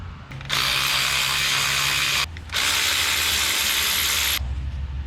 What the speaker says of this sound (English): we'll take this nut off and this bolt out so I can get this out the way